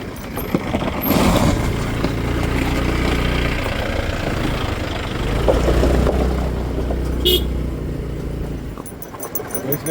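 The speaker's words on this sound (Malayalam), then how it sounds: "ഇതിൽ ജീപ്പൊക്കെ പോകുന്നുണ്ട് കേട്ടോ" A jeep engine rumbles continuously nearby, rising and falling as it drives over a rough off-road track, with rattles and a brief hiss along the way.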